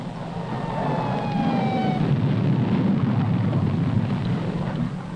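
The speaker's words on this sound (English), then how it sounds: "What has exploded is the ordinary explosive, which is an essential part of nuclear weapons." An ordinary explosive charge of the kind used in nuclear weapons detonates in a test, heard as a sustained, dense low rumble that swells and holds steadily, with a faint descending whistle early on.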